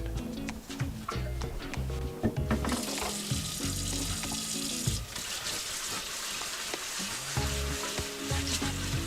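A cutting board is rinsed under a running kitchen tap, water splashing and hissing steadily with clattering knocks as it is scrubbed, close and continuous without talk.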